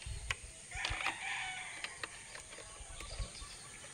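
Chickens in a small backyard poultry farm, with a rooster crowing close by and hens clucking in short bursts at moderate volume, heard alone without talk.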